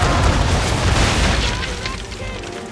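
Ship cannons fire a broadside in Assassin's Creed III, making a loud, rolling boom that dominates the start and then slowly fades, with a voice heard faintly beneath it.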